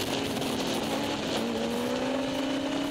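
Racing motorcycles, including a Zyvex Yamaha R1, passing on the track at Grattan Raceway during a WERA National race, a sustained high-revving engine whine with rising pitch as the bikes go by, moderately distant.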